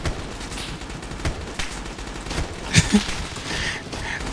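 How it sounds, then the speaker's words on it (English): Gunfire from a large multiplayer online shooter, with a handful of scattered, faint shots and a couple of louder bursts near the middle over a steady background of game noise. "You guys have to hear my gunshots and the game's gunshots while you're playing."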